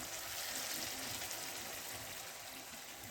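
Curry masala sizzling in a pan after a splash of water, a steady, soft, hissing crackle with no pauses, faint and close, with no talking.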